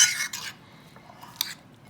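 A nacho topping with lemon juice, and likely cilantro, is stirred in a bowl: two quick bursts of spoon-against-bowl scraping and clinking, a quiet pause with soft movement, then one more short clatter.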